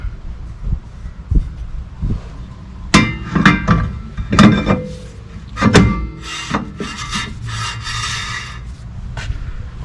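Metallic clanks, scrapes and knocks ring out close by as a rear brake rotor goes onto a 2005 Toyota Highlander, in irregular bursts with quieter gaps between them.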